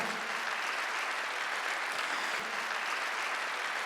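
A Korean church congregation at a Sunday worship service applauds together, a continuous, uniform roar of many hands clapping for nearly four seconds at moderate volume with no voices on top.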